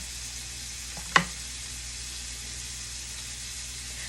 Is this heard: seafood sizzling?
yes